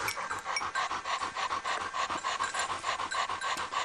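A hunting dog pants rapidly and rhythmically close to the microphone, quick steady breaths continuing without pause.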